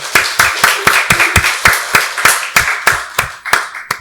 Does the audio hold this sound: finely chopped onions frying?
no